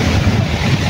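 Strong wind buffets the microphone continuously on a small fishing boat out on the water, a loud steady roar with waves and surf mixed underneath and no talking.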